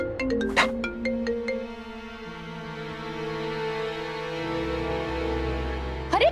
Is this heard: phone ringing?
yes